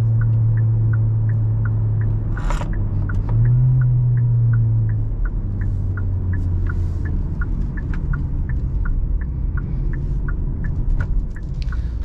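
A 2023 Hyundai Elantra with an IVT transmission cruises along, heard from inside as a loud, steady low engine and road drone. A faint, regular ticking repeats throughout, and no one speaks.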